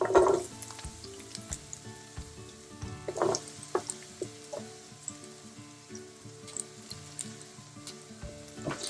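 Onions sizzling in hot oil with green chillies for a veg dum biryani, a steady close frying crackle with occasional stirring clatters and pan knocks throughout, no voices.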